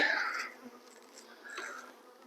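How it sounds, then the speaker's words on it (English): Honeybees fanning inside a hive, a soft, close, steady drone with wingbeats swelling and fading. "there's some fanning going on in here, so the bees are letting the other bees know"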